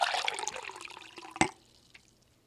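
Water poured into a cup in a short close stream, busy splashing in the first moments, then a sharp clink near the middle and quiet trickling drips to the end.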